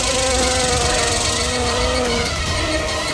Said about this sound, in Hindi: भाई इतनी मक्खियाँ गाड़ी में कहाँ से आ रही है?